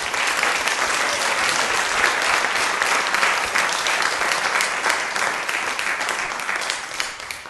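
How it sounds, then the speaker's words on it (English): Sustained, dense applause fills a church morning service as the congregation claps for the children, loud and steady throughout before tapering slightly at the end. "A round of applause to these guys."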